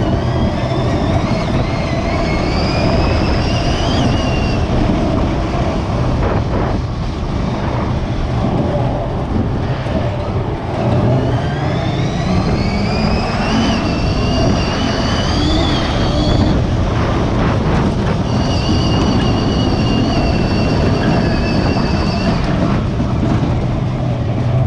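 The electric prototype UTV Alpha 1 drives in rear-wheel drive, its motor whine climbing and falling in pitch through several surges over a loud rough rumble of tires and chassis.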